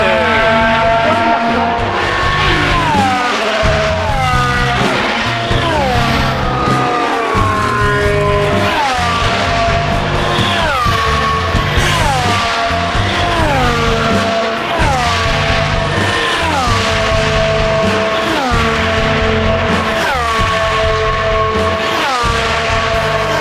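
F3 race cars at Monza howling past in loud succession, engines rising and falling in pitch as each car speeds by, with overlapping passes filling the air continuously.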